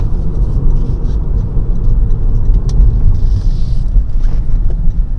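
A 2018 Toyota Prius drives and makes a couple of turns, giving a steady low road rumble and tyre noise from inside the cabin with no talk.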